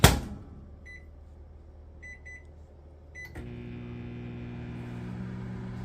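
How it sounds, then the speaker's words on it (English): A few keypad beeps, then an empty microwave oven starts up with a steady low hum that continues to the end. "Can we start the microwave?"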